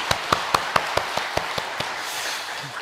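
A congregation claps at a Korean Protestant Sunday worship service in a church: about eight crisp, evenly spaced claps in a steady rhythm over a soft hall hiss. Then the clapping fades out.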